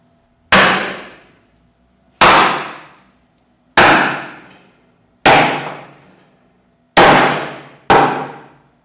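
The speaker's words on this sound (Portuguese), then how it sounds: "Mas aqui corta meio bruto, não tem serra elétrica não, então vai ser com cutelo mesmo." Meat cleaver chopping by hand through beef rib steak bone, with no electric saw: six loud, sharp, ringing whacks at uneven intervals, each fading out quickly, with no talking.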